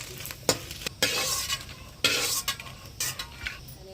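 Dried red chillies and spices fry in hot oil for an Andhra-style gongura mutton curry, a spatula scraping and stirring in sharp repeated strokes over a soft steady sizzle.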